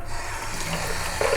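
Tap water runs steadily while hands are washed after cracking eggs, a continuous close splashing stream with a slight rise in intensity near the end.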